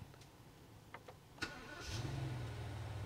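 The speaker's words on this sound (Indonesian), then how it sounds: "sekarang kita nyalain mesin" A Rolls-Royce V12 engine cranks and catches, settling into a smooth, low, steady idle that carries on quietly after a few brief clicks.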